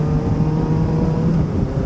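Kawasaki ZX-4RR motorcycle fitted with a new exhaust, heard while riding: a steady, loud engine drone with a held tone, close by and continuous, with no talking.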